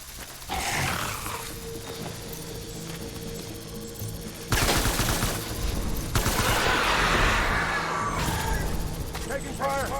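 A firefight in the video game Death Stranding brings bursts of rapid gunfire and automatic fire, loud and close, crackling in clustered volleys, with voices grunting and shouting amid the shooting.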